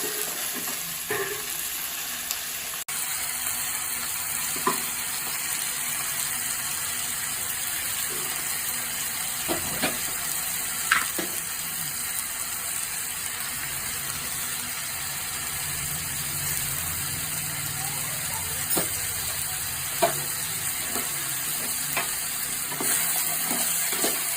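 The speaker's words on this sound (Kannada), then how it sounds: "ತಗೊಂಡಿರೋ 1 kg ಚಿಕನ್ನ ಚೆನ್ನಾಗಿ ಫ್ರೈ ಮಾಡ್ಕೊಳ್ಳಿ." A kilogram of chicken for spicy green chilli pepper chicken fries in a pan with a steady, close sizzle, broken by several sharp clinks and scrapes of stirring, with no one talking.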